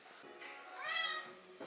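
A large, heavyset cat meows indoors, one drawn-out rising and falling meow in the middle with fainter mews around it, fairly close.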